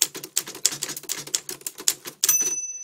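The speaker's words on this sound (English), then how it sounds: "and then you just type, and you see we'll do this" Keys strike on a 1940s Remington Rand Standard manual typewriter in a quick irregular run of sharp clacks, about a dozen close-up strokes, ending with a ringing bell-like ding.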